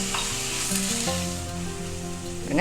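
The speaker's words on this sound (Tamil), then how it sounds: "தக்காளி வதங்கிடுது." Tomatoes sizzle steadily frying in a hot pan, a close, continuous crackling hiss with faint background tones and no talking.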